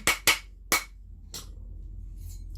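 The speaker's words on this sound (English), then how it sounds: "I'm just going to keep hammering until I've got a nice shape on it" Three sharp metallic hammer strikes on a copper ring in quick succession, then a softer fourth tap, ringing briefly against a quiet background.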